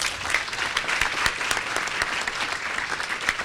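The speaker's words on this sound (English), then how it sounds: "Let's give him another round of applause." An audience gives Eboo Patel another round of applause at the NYC ILI, with full, lively clapping and a few sharper claps standing out, sustained for the whole stretch.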